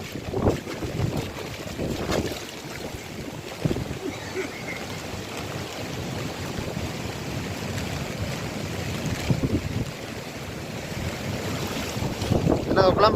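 Strong storm wind roars and buffets the microphone continuously, with rushing floodwater and gusty low rumbles throughout.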